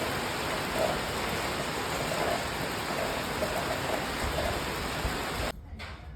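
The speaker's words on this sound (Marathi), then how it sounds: "खूप असा अचानक पाऊस आलाय" Steady, dense rain pours down for several seconds, a loud continuous hiss, then suddenly drops to a quieter wash near the end.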